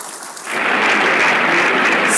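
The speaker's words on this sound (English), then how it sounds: "resounding applause" Audience applause swells from quiet into a dense, steady wash of clapping at a formal gathering, held loud and continuous to the end.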